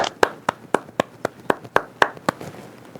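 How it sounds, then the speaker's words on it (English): Clapping in a room at an amateur radio club meeting comes as about eleven crisp, evenly spaced claps, close and fairly loud, quickening slightly toward the end with quiet gaps between them. "everyone here just give a big round of applause to the folks down in Coquitlam for all you did."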